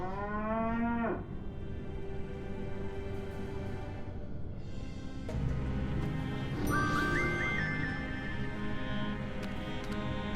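A cow moos in the point-and-click video game Sam and Max, a drawn-out low bellow at the start, followed by quieter game ambience and a rising electronic jingle later on.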